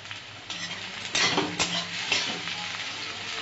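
Sliced onions with about half a spoon of sugar frying in hot spiced oil for a chicken curry, a steady close sizzle with a few louder bursts as the pieces are stirred, no voices.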